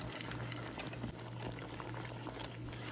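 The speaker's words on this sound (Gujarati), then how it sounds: "જો પાણી ઉકળી ગયું ને એમાં નાખી દઈશું સોજીનો શેકેલો લોટ" Water boils steadily in a pot as roasted semolina is added for upma, a continuous close bubbling and gurgling that stays even throughout with no talk.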